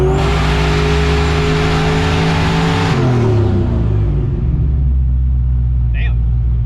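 A turbocharged small-block Buick V8 on a dyno roars loud and close at high revs, then winds down with a falling pitch into a lower rumble, and a brief voice comes at the end.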